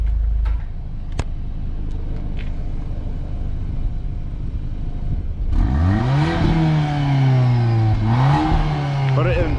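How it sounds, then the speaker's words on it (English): A 2022 Volkswagen Golf R engine revs up from idle twice, the rising and falling surges loud and close over a steady low rumble. "Alyssa, give me a rev"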